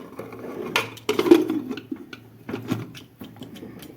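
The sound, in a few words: lid placed on pot of cooking dal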